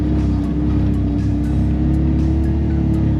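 A 2026 Can-Am Defender HD 11 Limited Max side-by-side engine holds a steady, loud drone at about 4,000 RPM in high gear, a constant close mechanical roar with no talk over it.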